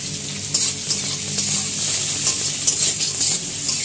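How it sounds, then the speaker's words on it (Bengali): Onion sizzles loudly in hot oil in a pan for a fish egg curry, a dense continuous frying hiss with occasional stirring scrapes, close and without talk. "পেঁয়াজটাকে ভালো করে আমরা ভেজে নেব"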